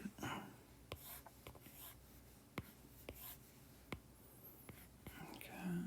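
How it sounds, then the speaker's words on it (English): Pen strokes on paper as a free body diagram is drawn by hand, quiet scratching marks in short separate bursts, close and soft, with faint background noise and no talk. "let's go ahead and draw our free body diagram"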